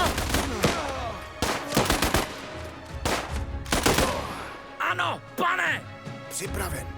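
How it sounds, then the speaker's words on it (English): Rapid bursts of upgraded machine gun fire in the video game Last Train Home, loud rattling volleys broken by short pauses, with someone talking over and between the shots. "Those upgraded machine guns are amazing."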